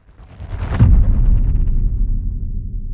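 Cinematic trailer impact from the UVI Orbit synth factory preset, combining risers with a filtered low boom: a loud, deep booming hit with a bright crackling burst that decays into a rumbling tail, no voices.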